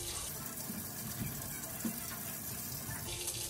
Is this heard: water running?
yes